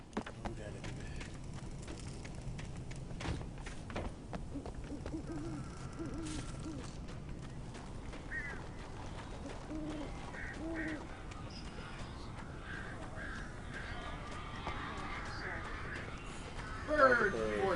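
Inside the video game Alan Wake, an owl hoots and other birds call faintly against a low ambient game backdrop, with people talking over the quiet sounds.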